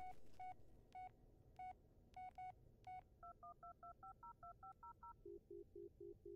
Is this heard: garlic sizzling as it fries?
no